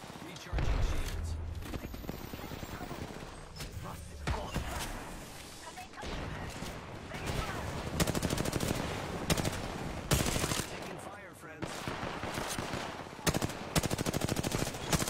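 Gunfire in the video game Apex Legends, rapid automatic bursts and volleys of shots repeating throughout, loud and dense, with speech mixed in between the bursts.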